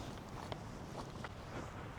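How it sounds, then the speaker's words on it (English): Strong gusty wind on a coastal walk along the Jurassic Coast between Seatown and West Bay, buffeting the microphone as a dense, continuous roar with brief louder gusts, no talking. "It's pretty windy"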